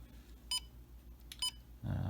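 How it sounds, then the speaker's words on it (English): A Digitrax decoder programmer gives two short electronic beeps a second apart, each a brief high tone, followed by a burst of low rumbling noise at the end. "It'll beep until it's ready."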